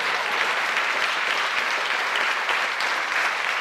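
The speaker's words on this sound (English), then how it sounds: "has been won by Team Hype, who are very keen to stand up and take their applause." A debate audience applauds the winning team at the 2016 Menzies Debate on stem cells, with sustained, even clapping from a crowd and no break.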